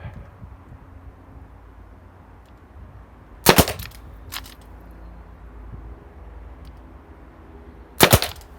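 Sharp, loud reports from a Colt 1911 A1 pistol at the end of a shooting session: a close pair of cracks, a softer shot soon after, then a long pause before a final crack, over quiet outdoor ambience.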